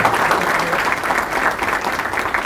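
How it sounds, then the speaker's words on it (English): A room of attendees at a community action agency's annual meeting gives a round of applause for state House and Senate members, steady dense clapping, muffled and continuous for the whole stretch. "a nice round of applause, please"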